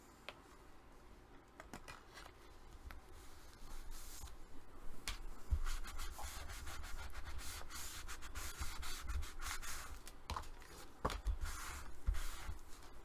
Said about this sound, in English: And make sure you burnish it real well. The flatter the better.